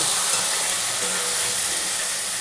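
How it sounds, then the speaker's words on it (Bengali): Spices and boiled potatoes stir-fried in a pan for dhokar dalna give a loud, continuous, broad sizzle that stays even throughout, with faint scraping from the stirring beneath it. "দিয়ে এটা আমি ভালো করে একটু কষে নেব"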